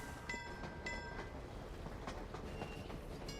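A train passes in the Nikki and Momo Island video game, a steady rolling rumble with faint tonal whistle-like notes over it, heard on its own without talk.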